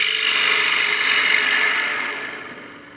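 A gouge cuts wood on a lathe while turning a coin box, giving a continuous close hissing scrape that holds steady and then fades slightly toward the end.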